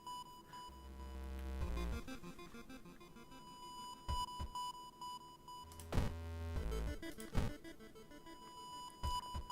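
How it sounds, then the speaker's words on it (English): Electronic alarm in the horror game WORLD OF HORROR gives off repeated synthetic beeps in short bursts over a droning tonal game soundtrack, with no talk. "Beep, beep, beep, beep, beep."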